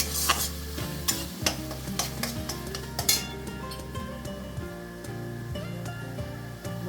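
Spices sauté in a pan with oil for a prawn and jackfruit curry, a steady close sizzle with repeated scraping stirs and clinks of a spoon against the pan, no voices.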